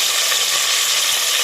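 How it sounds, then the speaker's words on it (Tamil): Chopped tomatoes land in a hot pan for rasam with a loud, dense, close hiss of sautéing that holds steady and unbroken for a brief moment. "அந்த தக்காளியை இதில் போட்டுக்கோங்க."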